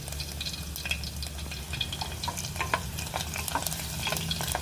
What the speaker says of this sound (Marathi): लसूण छान परतून घेऊया आपण